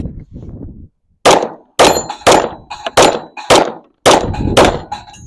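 Rapid shots from a Sig 320 pistol ring out in quick succession, about eight sharp cracks roughly half a second apart, each followed by a metallic ringing clang as if striking steel targets, close and loud, preceded by a few soft low sounds.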